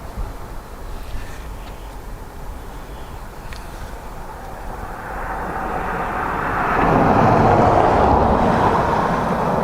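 An aircraft departing Dublin Airport, heard as a distant engine roar that swells steadily into a loud, broad rushing thrust toward the end, with no talk over it.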